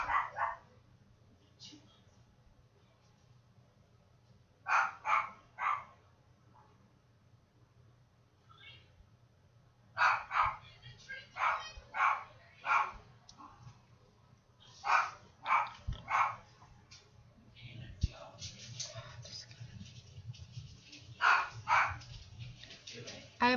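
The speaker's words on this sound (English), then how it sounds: "I apologize if you can hear my dog barking in the background." A dog barks in the background during a makeup session, sharp repeated barks in short clusters spread through the clip, fairly faint and distant, with some talking mixed in.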